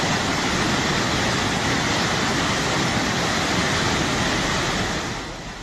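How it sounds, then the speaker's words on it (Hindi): After a cloudburst in Uttarkashi, floodwater and debris rush down a hillside into a four-lane highway tunnel, a loud, dense, unbroken roar of torrential water that fades slightly at the very end. "तस्वीरों में साफ देखा जा सकता है कि सैलाब किस तरह से पहाड़ी से नीचे आ रहा है और टनल के अंदर मलबा और बारिश का पानी भर रहा है।"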